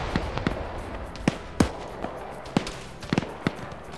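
Sharp explosive bangs from grenade launcher rounds in a military shooter game, several scattered blasts over a few seconds, some doubled in quick succession, each a short cracking burst above low background noise.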